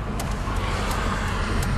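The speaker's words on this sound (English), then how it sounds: "Now we've got to wait on cars to stop coming." Cars passing on a road near a high school, a steady roadway rumble of traffic with faint swishes of passing vehicles, heard up close and continuous with no voices.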